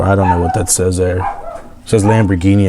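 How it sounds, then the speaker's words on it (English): A pet dog barks and yips from upstairs in a house, short sharp barks mixed in with someone talking nearby. "Sorry about my dog freaking out up there."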